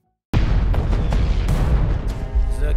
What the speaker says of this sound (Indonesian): Di detik itu Leonid ngebentengin tubuh Liuda dari ledakan.